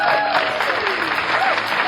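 Applause from a small audience at a local radio or variety show interview, brisk continuous clapping over roughly two seconds, fairly close and loud, with voices mixed in.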